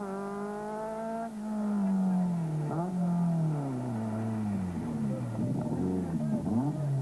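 A four-wheel-drive rally car races hard through a slippery forest stage at the 1989 Castrol International Rally, its engine revving loudly and rising and falling in pitch as it shifts and powers through corners, with no talking.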